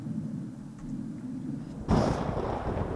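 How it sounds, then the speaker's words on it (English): Thunder booms from a lightning strike in the video game Cooking Companions, a low rumbling bed that breaks into a sudden loud crack partway through and keeps rolling afterward. "Did the lightning wake you up?"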